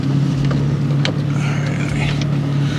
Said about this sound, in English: That's my that rattling that I was talking about before. I think it's actually my clutch.